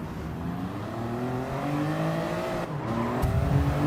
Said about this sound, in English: just dipping a wheel in the grass sends us sliding off